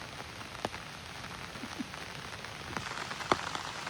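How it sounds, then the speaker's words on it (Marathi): Rain falls in a forest at a homestay with an even, soft patter on leaves and ground and a few louder drips, steady and fairly distant, with no talking. "पाऊस आलेला आहे"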